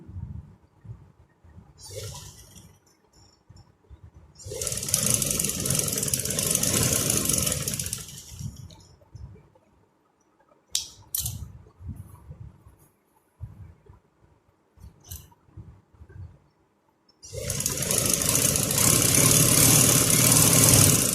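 An electric sewing machine stitches a shalwar, joining the turned second seam to the fabric, in two long steady motor-driven runs separated by quieter handling noises.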